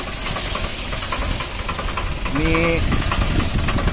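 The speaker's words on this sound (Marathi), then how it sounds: "हे मोठं ट्रॅक्टर आहे" A large tractor engine knocks and rumbles steadily at close range in a sugarcane field, loud throughout, while someone talks over it and a brief tonal whine rises partway through.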